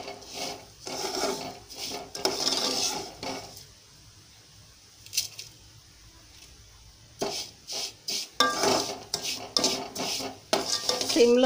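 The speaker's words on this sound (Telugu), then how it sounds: "సేమియాలు ఒక 2 నిమిషాలు వేగాలండి" Vermicelli (semiya) stirred in a pan on a low flame, with repeated scraping and clinking of a metal spoon against the pan in bursts, separated by a quiet pause with faint sizzling.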